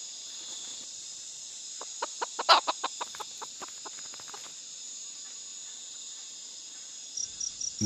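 A hen clucks at night in the Amazon rainforest, giving a quick run of short, moderately close clucks that fade out, over a constant high drone of crickets and insects, with no talking.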